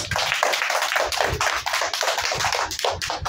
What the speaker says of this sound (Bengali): ওমের জন্য একটা হাততালি দাও